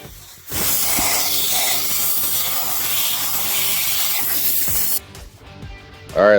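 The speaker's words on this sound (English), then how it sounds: "I'm going to pressure wash it out too a little bit" A pressure washer sprays in a steady, loud hiss for about four seconds while cleaning out a diesel oxidation catalyst, then cuts off, leaving brief clattering and rustling noises.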